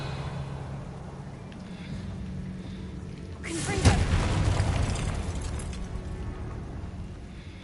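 Confringo explosion spell in a Harry Potter video game, a sudden booming burst midway through a quiet stretch, followed by a rumbling decay lasting a few seconds over faint background ambience.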